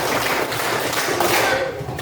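Scout members at a school session clap a five-beat pattern in unison, repeated, giving a dense run of close, crisp claps with little talk underneath.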